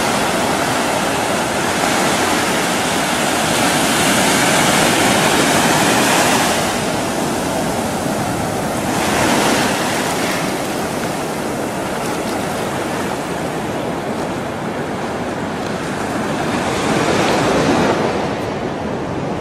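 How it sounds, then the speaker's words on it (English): Ocean waves break on the beach at Playa San Pedro in Lurín, a loud continuous roar of surf that swells and recedes in several slow surges, with wind buffeting the microphone and no talk. "the waves are quite pleasant today"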